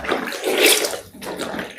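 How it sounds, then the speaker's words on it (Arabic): Laundry being washed by hand in a bathroom, with water sloshing and splashing in a basin or tub, steady and close, with a brief pause partway through. "تعالي انا هنا في الحمام بغسل."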